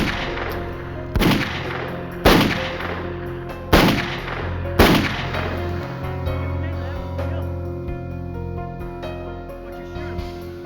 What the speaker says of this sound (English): He had drawn a .357 he had kept hidden and emptied it into the unsuspecting wardens.